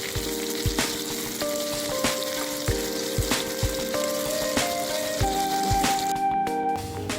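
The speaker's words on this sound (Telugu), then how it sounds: "నూనె వేడయ్యాక అల్లం ముక్కలు పచ్చివాసన పోయే వరకు వేయించాలి" Ginger pieces frying in hot oil, a steady close sizzle and crackle running throughout with occasional utensil taps and a faint tonal hum in the background.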